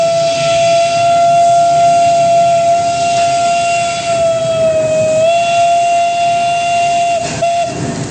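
A 130-year-old steam locomotive sounding its steam whistle on a railway turntable, a loud sustained steady tone held for about eight seconds over a hissing steam wash, close up with no talking.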